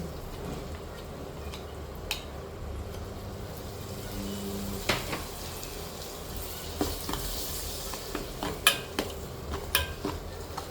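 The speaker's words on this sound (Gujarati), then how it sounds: "હવે એમાંથી તેલ છૂટું પડે ત્યાં સુધી આપણે સસળવા દઈશું" Soaked garam masala and South Indian masala sizzling in hot oil, a low, steady frying hiss with occasional clinks of a utensil against the pan, growing a little busier toward the end, with no speech.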